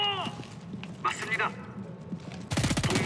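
Submachine gun fire in the shooter game Homefront: The Revolution, a quick burst of rapid shots breaking out at the end, right after a voice talks over low game ambience.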